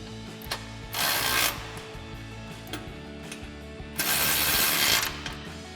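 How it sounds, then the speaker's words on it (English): A ratchet driving an 18mm socket tightens bolts on a heavy-duty front bumper on a Jeep Wrangler JK, with two bursts of rapid clicking a few seconds apart and quieter handling noises between them. "grab our 18mm socket on our ratchet and tighten these down"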